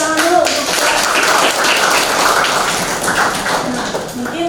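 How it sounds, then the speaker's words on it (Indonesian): Students clapping in a classroom during a lesson on programming data types, a sustained patter of hands at moderate loudness, fairly even for several seconds. "Oke, tepuk tangan dulu."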